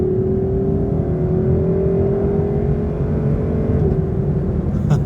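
A Lexus LC500 Convertible with its naturally aspirated 5.0L V8 drones steadily while cruising on a highway, a smooth, continuous engine note slowly rising in pitch, heard close and alone without talk.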